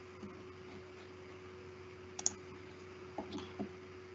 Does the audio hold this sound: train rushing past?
no